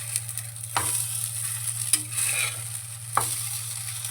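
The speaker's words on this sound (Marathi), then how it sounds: "पण हे मी थोडं कमी तेलात केलेलं आहे, शॅलो फ्राय केलेलं आहे." Aloo tikki shallow frying in a little oil on a flat pan, a steady sizzle throughout with a few soft scraping stirs, close and continuous, no talking.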